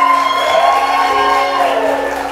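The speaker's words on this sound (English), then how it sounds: "Let's give a round of applause for how beautiful she looks today" A wedding crowd cheers and whoops for the bride, a loud, dense roar of voices that holds steady and fades a little toward the end.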